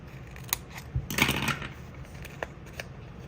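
Long-handled scissors cutting a paper journal insert in half: a short cluster of crisp snipping and paper rustle near the middle, with a few light taps and handling clicks before and after, close by.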